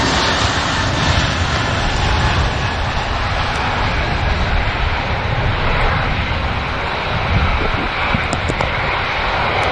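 An Airbus A380 airliner at Manchester Airport gives off a loud, steady engine roar that holds evenly without a break, a broad continuous wash of jet noise close to the listener.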